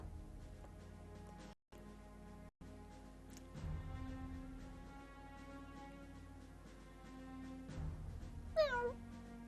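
A person imitating a cat, drawn-out meows repeated over a quiet, steady background, with a sharper squeaky mew near the end; no other talking.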